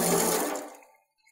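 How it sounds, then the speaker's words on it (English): Water rushes from a garden hose tap during a functional test of its vacuum breaker, a close, steady splashing flow that quickly tapers off and stops, leaving near silence. "So you can see that we've got straight flow out of the hose cock."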